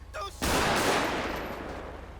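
Gunfire in GTA 5 erupts as a loud burst of overlapping shots after a brief quiet opening, the ringing decay trailing off over the next two seconds.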